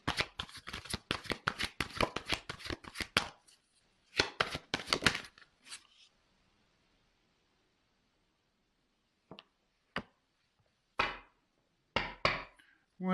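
Tarot cards shuffled and drawn by hand: dense, close, crisp riffling for about three seconds, a second burst of shuffling, then quiet with a few isolated snaps and slaps as single cards are pulled and laid down.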